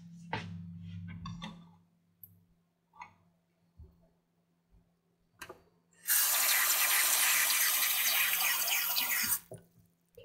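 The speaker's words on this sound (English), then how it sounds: "I'm gonna add a little bit more water." Water runs steadily from a tap for a few seconds, loud and close, after some scattered clinks and knocks, added to sweet potato fries before microwaving.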